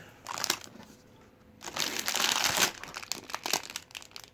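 Plastic packaging around a car starter motor crinkles and crackles as it is handled, in two louder bursts with quieter rustling between them and no speech.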